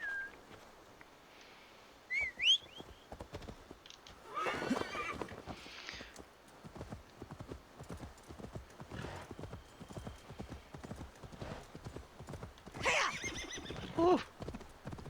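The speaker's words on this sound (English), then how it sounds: "how about we summon the horse?" Summoning a horse in Assassin's Creed Valhalla: a sharp whistle call, then a long run of steady clip-clopping hooves with whinnies rising over the trotting and a second whistle near the end.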